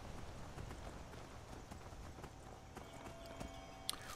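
Horse hooves clip-clop in the video game Skyrim as a horse is led along, a faint, steady rhythmic clopping over a low game ambience, with one sharper knock near the end.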